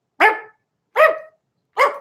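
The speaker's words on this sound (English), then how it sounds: "leading this pack of about 5 dogs is this little fucking pissed off Chihuahua" A small, angry Chihuahua barks three times in sharp, evenly spaced yaps, close and loud with silence between.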